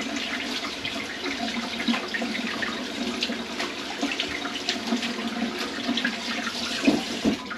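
Bitter melon rinsed under a running tap, a continuous close splashing and trickling of water with small irregular surges.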